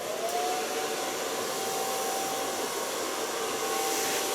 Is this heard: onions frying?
no